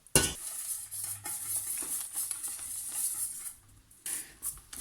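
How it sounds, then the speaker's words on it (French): Galette batter of eggs, oil and water whisked in a bowl, a close, busy wet clicking and scraping of the utensil with short pauses and no talking. "On va y mettre une partie de l'eau et on va venir mélanger."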